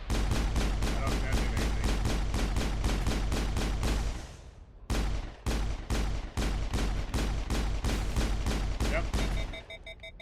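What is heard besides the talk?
shotgun firing at a turret in the video game Mass Effect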